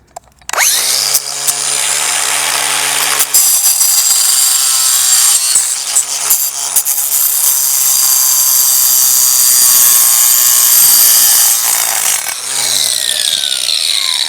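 A power tool cuts through model railway layout track, a loud, steady buzzing grind that runs almost unbroken for about fourteen seconds, with brief dips and shifts in pitch as the blade works.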